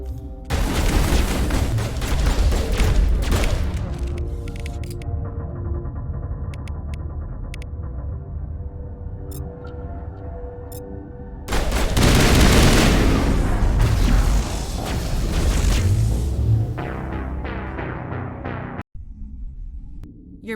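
Sustained gunfire and heavy booming explosions from a Mass Effect firefight fill the scene, dense and loud throughout, with a brief lull midway before another burst of blasts and a sudden cut near the end.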